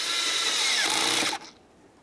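An 8mm clamp being tightened on the air intake of a 1998-2011 Ford Ranger with a 2.3L four-cylinder engine, a close, steady whirring tool sound lasting about a second and a half before cutting off abruptly.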